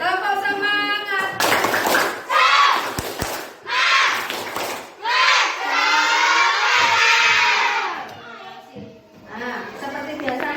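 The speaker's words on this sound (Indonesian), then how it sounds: "Ayo tepuk semangat dulu. Tepuk semangat." Schoolchildren in a classroom chant a spirit clapping cheer together, loud bursts of shouted voices alternating with sharp group claps and short pauses.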